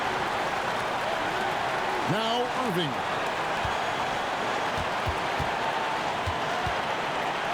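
Basketball arena crowd in NBA 2K26 gives a steady, loud roar and cheer throughout, with a commentator talking over it and a brief burst of whistles or sneaker squeaks early on.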